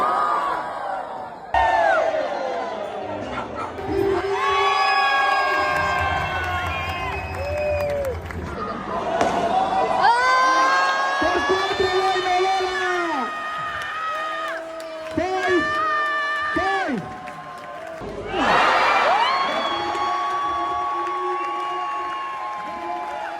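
A lively crowd at a padel tournament at Bali Padel Academy cheers and whoops in loud bursts, with shouting voices rising and falling over several surges of excitement.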